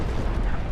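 A ship fires a cannon broadside in the naval combat game Naval Action, a short, heavy, low-pitched booming rumble that fills the whole brief moment.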